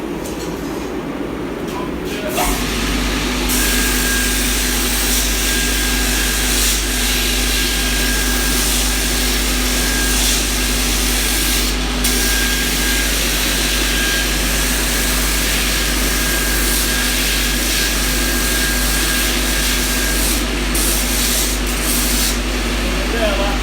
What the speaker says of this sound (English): What we do is grind them down a bit.